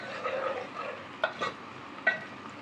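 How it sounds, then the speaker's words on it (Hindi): Onions fry softly with garam masala and a bay leaf in oil for Karachi chicken biryani, a faint hissing sizzle broken by a few sharp spoon scrapes and clinks against the pot. "ताकि वो प्याज के साथ गरम मसाला भी फ्राई हो जाए।"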